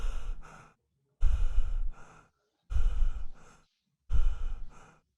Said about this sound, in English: they're breathing through their mouth all the time.